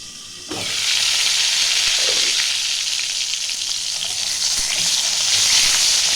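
Pointed gourd (potol) fries in a pan, starting with a sudden loud sizzle as it hits the oil and then settling into a steady, close hiss of frying with no voices.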